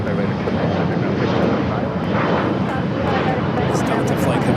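A Delta passenger jet coming in from Dallas-Fort Worth to Los Angeles International roars in a broad, steady wash of engine noise, loud and continuous.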